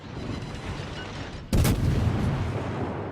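A single heavy naval gun blast from warship batteries in World of Warships, likely the cruiser New Orleans firing, cuts in abruptly over a steady low sea-and-engine rumble and leaves a loud booming roll behind it.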